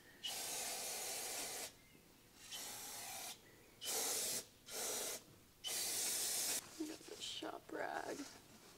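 Several long hissing sprays of all-purpose cleaner from a spray bottle onto a Honda Civic's front suspension in bursts of one to two seconds, close by, followed by shorter quick spritzes and brief rubbing.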